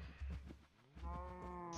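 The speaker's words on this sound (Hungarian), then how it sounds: "Birka tehenek." Cattle mooing in the Minecraft video game, a few synthetic moos one after another over a low droning background, loud and close, with no talk.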